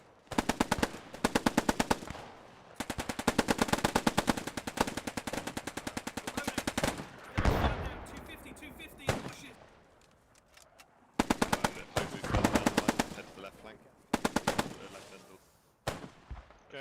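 Machine gun fire in the WWII video game Post Scriptum, with loud, rapid automatic bursts repeating in long strings separated by short gaps, and quieter single shots between them.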